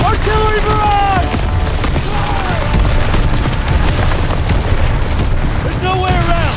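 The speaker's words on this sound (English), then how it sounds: "Artillery barrage!" Artillery barrage in a World War II battle from Call of Duty WW2, with booming explosions rumbling continuously beneath whistling shell streaks and shouted voices throughout.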